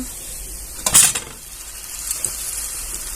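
Fried dahi vada are lifted from hot oil and dropped into sugar syrup. Steady frying sizzle runs throughout, with one brief loud clink and splash of utensils, heard close up.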